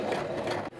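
A sewing machine stitches curtain fabric for a dress, giving a steady close mechanical whir that runs evenly and then cuts off abruptly near the end.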